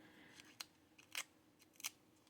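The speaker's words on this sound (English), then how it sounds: "Sometimes with these scissors, if I'm lucky, I can drag it" Scissors dragged across paper while crafting a junk journal, a few quiet, brief scraping strokes spaced apart and close by.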